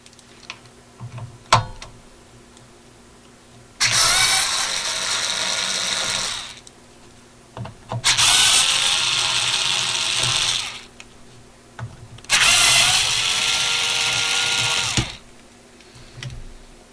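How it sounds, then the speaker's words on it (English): A power screwdriver backing screws out of the bottom plate of an Electrohome Kalmar console stereo, three sustained whirring bursts of a few seconds each, close and loud, separated by quiet handling clicks. "Looks just like quite a few screws holding the bottom plate on, so I'll get those off."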